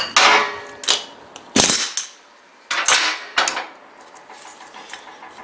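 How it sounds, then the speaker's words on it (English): Sharp metallic hammer strikes on the front axle U-joint of a Dodge Ram 2500/3500 truck, about six ringing whacks in an irregular rhythm, loud and close with clanging decay. "Give a whack with a hammer."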